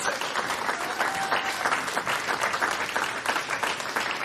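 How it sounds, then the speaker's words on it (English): Loud, dense applause from a darts crowd celebrating Scotland as Six Nations champions, steady and sustained throughout with a little cheering mixed in. "a huge round of applause, please, for your Six Nations champions, Scotland."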